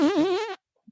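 A voice imitates a fart with a wobbling, buzzing blurt held for about half a second, close and loud, followed by silence and a faint sound just after.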